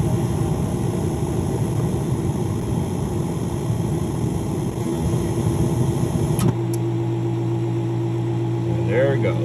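A Mr. Heater Big Maxx heater with a very hot inductive motor runs with a steady, close whirring drone that shifts abruptly near the end into a flatter tonal hum as it approaches an overheat shutdown.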